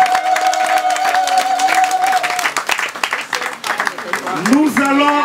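Wedding guests at a customary marriage ceremony clap together in a dense burst of applause that starts loud and near, then thins and fades as voices take over toward the end.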